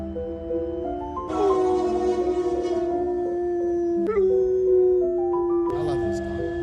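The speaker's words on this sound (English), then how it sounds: "A dog that loves trains." A dog howls in long, wavering tones, rising and falling alongside a steady tonal train-like sound, with a few sharper yips breaking in; the howling stays loud and close throughout.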